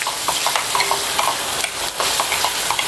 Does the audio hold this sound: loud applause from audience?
no